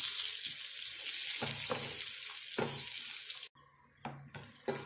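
Bottle gourd and coconut pieces are sautéed in a pan for chutney. A steady, moderate sizzle carries a few stirring scrapes, then cuts off abruptly and gives way to quieter clinks and clatters.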